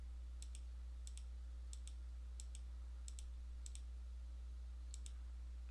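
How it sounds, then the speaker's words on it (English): A computer mouse clicks on electrodes in software, giving faint, evenly spaced double clicks about every half second over a quiet room hum. "And that's why I'm clicking them in this particular order."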